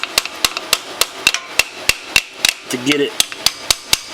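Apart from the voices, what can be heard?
tapping sleeve over shaft, CanAm DS90x transmission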